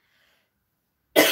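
A short, loud cough bursts out suddenly near the end after a near-silent stretch, from a person with a lingering allergy cough.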